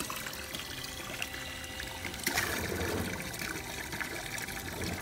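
Water flows out of a 1054 water filter tank during its rinse cycle, a steady close trickling and pouring stream that runs continuously without talk.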